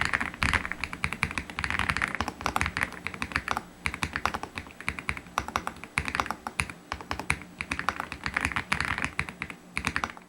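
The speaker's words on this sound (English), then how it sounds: "Here's a quick sound test so you can hear the whole sound of this keyboard." Fast, continuous typing on an AJAZZ AKS068 Alice ergonomic mechanical keyboard, with crisp clacky keystrokes close up and a few brief pauses.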